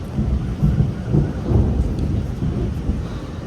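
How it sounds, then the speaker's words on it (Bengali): A low thunder rumble rolls on beneath steady rain heard from a rooftop, deep and continuous with swelling peaks and no talk. "মেঘও ডাকছি দেখো"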